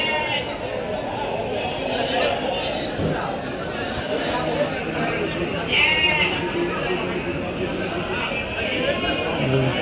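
Sheep bleating at a crowded livestock market, with repeated bleats rising over constant chatter and talk from many people nearby.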